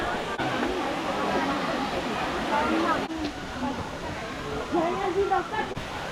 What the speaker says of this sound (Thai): ตอนนี้เรามาถึงน้ำตกชั้นที่สองนะทุกคนชื่อว่าวังมัดฉานะครับ